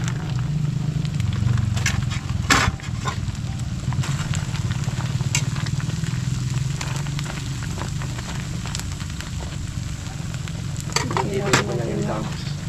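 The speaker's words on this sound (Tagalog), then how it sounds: "Lagay na po natin yung sarang baboy." Pork hits a hot frying pan and sizzles steadily, with a dense crackling hiss, occasional stirring scrapes and utensil clacks nearby.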